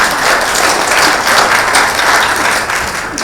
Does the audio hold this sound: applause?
yes